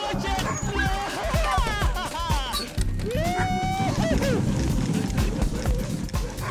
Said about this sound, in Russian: Удар хлыстом, и собаки понеслись.